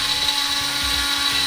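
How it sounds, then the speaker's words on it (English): Coffee grinder whirring as it grinds about a tablespoon each of flax seeds and chia seeds, a steady, loud, high-pitched motor whine that runs unbroken and close throughout. "I'm gonna take about a tablespoon of flax seeds and about a tablespoon of chia seeds. And I'm gonna get ready, it's gonna get noisy here."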